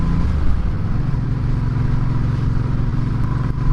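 A Suzuki Intruder V800 motorcycle engine runs loud and close during a ride, a steady, throbbing low rumble that holds even throughout with no clear revving.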